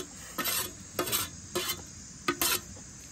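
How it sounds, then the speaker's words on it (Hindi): Chicken with green and red chilli and fresh coriander is stirred in a hot pan, four short scraping strokes spaced about half a second apart, close and distinct, with a faint sizzle between them. "इसको हम बढ़िया तरीके से मिक्स कर देंगे अंदर तक"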